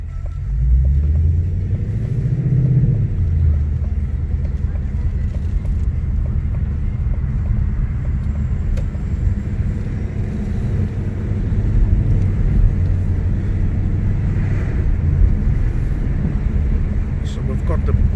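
A 2018 Ford V8 cruises at low speed, giving a deep, continuous burble and rumble with a rise and fall in revs early on. Someone talks over the engine throughout.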